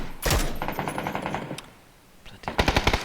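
Rapid bursts of automatic gunfire in a PUBG battle royale match, sharp repeated shots at the start, a quieter stretch of muffled pops, then another close, loud volley of fast shots.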